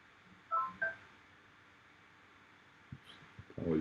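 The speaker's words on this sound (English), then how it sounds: "Apologies, I should have left my phone outside." A mobile phone goes off during an online call, giving two short electronic tones over a quiet room hum. A few faint clicks and knocks follow near the end.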